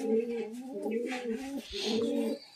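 Giribaj pigeons coo steadily and close by, giving a continuous run of low, throaty, rolling calls with a brief break midway.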